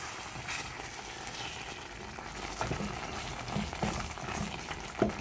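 Fig and walnut jam simmers and bubbles in a pot while being stirred, a quiet continuous bubbling hiss with soft scraping and light clinks, faint and close, with no talking.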